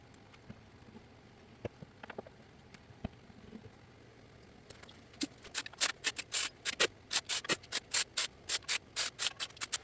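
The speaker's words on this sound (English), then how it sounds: "Final wipe down with a clean rag on the mating surface." A clean rag wipes the transmission pan mating surface on a Toyota RAV4. Soft, sparse rubbing strokes give way to a quick, steady series of brisk swipes in the second half, close by with no talking.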